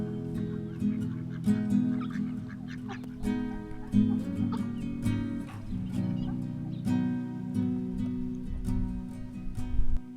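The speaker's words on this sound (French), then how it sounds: "Là, t'as une armée de canards." A group of ducks quacks continuously and loudly, many overlapping calls close by.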